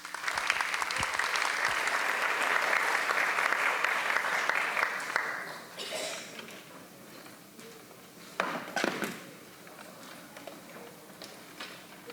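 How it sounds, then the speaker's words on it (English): An indoor conference audience at a green jobs plenary claps in a dense, sustained round of applause that swells and then fades over several seconds, followed by scattered claps and room noise. "So please give them a big round of applause."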